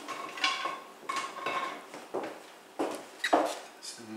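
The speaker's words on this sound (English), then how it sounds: "And then give this a quick stir." Spoon scraping and clinking against a dish while a green bean gratin mixture with ham is stirred, a series of close, irregular taps and scrapes at moderate volume.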